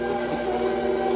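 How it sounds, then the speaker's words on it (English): A steady electric hand mixer whirs at low speed blending a spinach artichoke jalapeno popper dip, a constant mechanical hum with no voices over it. "Okay, so I'm going to blend that."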